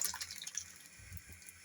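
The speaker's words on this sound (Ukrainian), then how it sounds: "Суп закипів, додаємо наш розчинений брикет." Dissolved pea soup briquette mixture poured into a pot of boiling pea soup, a soft watery splash and trickle heard up close, fading to a low bubbling murmur.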